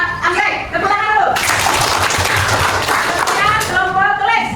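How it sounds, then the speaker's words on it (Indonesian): Classroom applause at an elementary school for a student group, with children's voices talking before and after a burst of busy clapping that fills the middle few seconds. "Sekarang yang berikutnya adalah kelompok anggrek. Tepuk tangan dulu."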